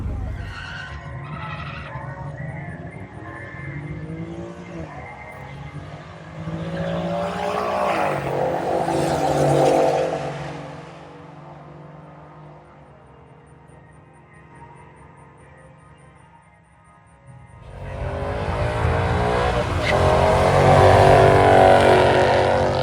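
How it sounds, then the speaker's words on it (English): A car launches hard on a drag pass at a car show, its engine roaring up through the revs, dropping off, then roaring loudly again, with no voices. "All right, we got Uncle Walter's gonna go out and make a pass in the old Eco Bish here"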